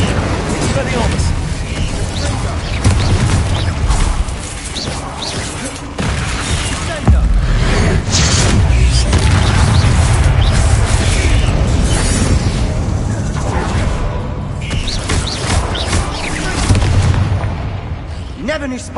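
Spells cast repeatedly in the Hogwarts Legacy video game, with loud explosive blasts and booms layered over continuous dense battle noise and a voice speaking throughout.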